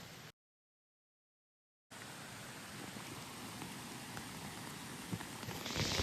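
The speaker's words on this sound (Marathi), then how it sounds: "आता पाऊस पण पडतोय भरपूर आणि पाणी पण थोडं थोडं वाढत आहे" Heavy rain falls near a waterfall as a dense, steady hiss that cuts out briefly near the start and then returns and grows slightly louder toward the end.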